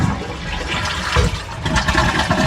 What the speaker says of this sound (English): toilet's being flushed